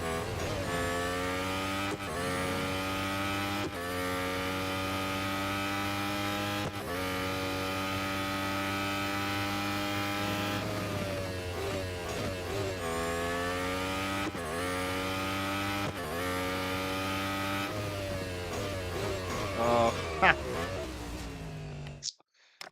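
A race car engine in the Real Racing 3 video game roars loudly and continuously, repeatedly climbing and dropping in pitch through gear shifts over a lap, with a brief exclamation from a player near the end.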